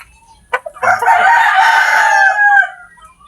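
A young gamecock stag lets out a single loud, close crow that rises and holds for about two seconds before trailing off, with no talk over it.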